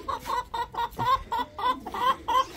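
Hens in a backyard coop clucking before laying eggs, a run of about ten rhythmic, fairly close clucks with short gaps between them.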